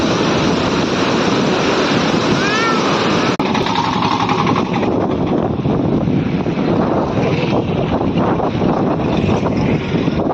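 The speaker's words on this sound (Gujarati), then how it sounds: "પાણી કેટલું મસ્ત આવેલું જાય છે." Floodwater of the Bhadar river surges past at Jetpur after dam gates were opened, a loud, dense, continuous roar and rush that fills the whole scene without a break.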